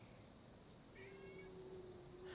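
A pet cat indoors gives a faint meow over steady low background noise, a single drawn-out tonal call.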